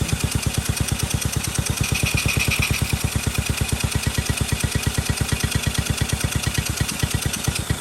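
A Honda XL70 motorcycle engine catches and runs at a steady idle, its close, loud single-cylinder exhaust popping in a fast, even rhythm throughout, with no talking.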